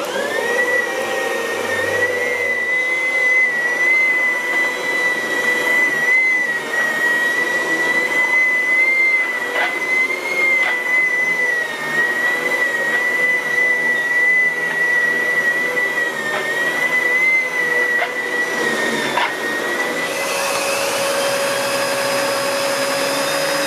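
A Dyson DC-14 vacuum set up as a central vac through a 50-foot hose roars steadily with a sustained whine, shifting slightly in pitch near the end.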